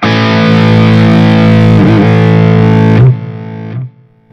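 Loud electric guitar through a distortion effect, a thick sustained chord held close for about three seconds before it is cut off, followed by a brief quieter ring.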